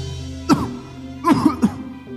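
A single cough, then a pause and a cluster of two or three more coughs, close and fairly loud.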